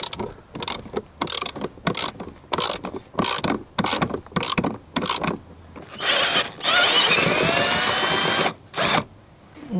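A tool working a long screw loose on a Ford Explorer during fuel pump removal, heard as a run of rapid ratcheting clicks in short bursts with brief gaps, then a steadier stretch of whirring and clicking.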